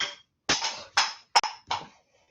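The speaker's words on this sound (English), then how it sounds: "That was my chicken knocking something off my kitchen counter." Objects knocked off a kitchen counter by a chicken: a quick run of four separate clattering knocks and thuds, loud and close, with short silent gaps between them and no talk.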